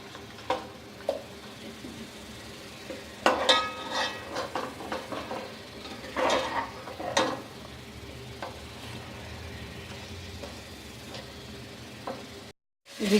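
Chicken frying with garlic ginger paste in a karahi, a soft continuous sizzle broken by scattered scrapes and knocks of a spoon against the pan, close and moderate in level, with no talking.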